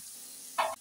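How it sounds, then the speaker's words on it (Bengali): Kohlrabi pieces frying in a pan, a brief soft sizzle that flares for a moment near the end, quiet and close. "ওলকপিগুলো হালকা ভাজা হয়ে গেছে,"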